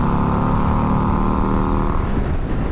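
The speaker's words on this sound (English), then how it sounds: "you've got to love that note on a Harley" A 2022 Harley Davidson Street Glide ST engine revs close up, a loud, throaty growl that holds steady and then eases off, with no talking over it.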